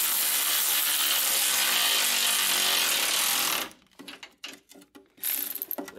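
Nuts on a Ford E350 transmission mount tightened with a ratchet: a long, loud, continuous buzz of rapid ratcheting, then it breaks into short choppy bursts and ends with another quick run, close up, no talking.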